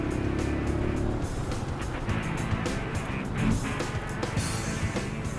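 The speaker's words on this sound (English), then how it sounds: "I guess it's because the majority of traffic is two-wheel traffic." Dense street traffic in Hanoi, mostly motorbikes, forms a steady, loud wash of engine noise and passing vehicles with no clear pauses.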